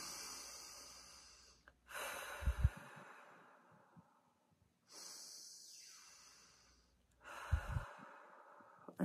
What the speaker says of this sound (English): Go ahead, inhale.